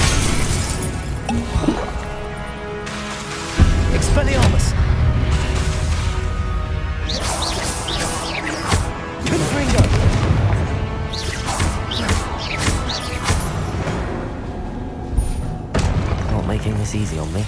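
Spell combat in the video game Hogwarts Legacy, with Expelliarmus and Confringo casts going off as repeated sharp blasts, crashes and magical whooshes over continuous game music and effects, with voices calling out spell names at points.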